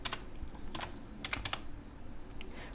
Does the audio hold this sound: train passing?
no